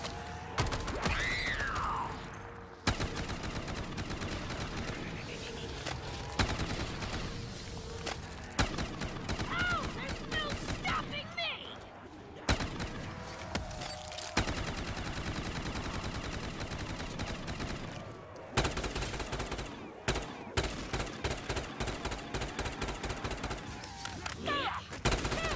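Sniper rifle gunfire in Black Ops 3 custom zombies, Store Front map: loud, near-continuous shots in rapid bursts over a sustained game soundscape, with brief pauses between volleys.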